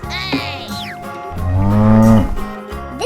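A cartoon cow gives one long, loud, low moo from a children's farm-animal cartoon, rising then holding steady before it cuts off, with no talk over it.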